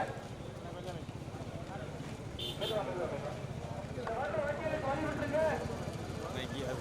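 Bulls' hooves clip-clop in a big-bull cart race at Kadaladi in Ramanathapuram district, a steady rapid patter under a crowded outdoor din, with a voice calling out over a loudspeaker throughout.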